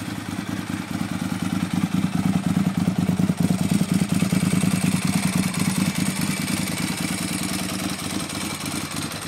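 A Ducati 996 motorcycle idles close by with a steady, lumpy, rapid pulse and mechanical clatter from its dry clutch, holding an even level throughout with no talking.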